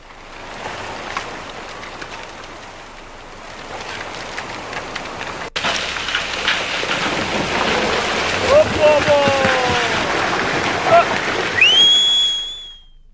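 Steady rainfall during persistent monsoon rain at Karnaprayag in Chamoli, Uttarakhand, a broad continuous wash that grows louder partway through, with faint whistling tones near the end.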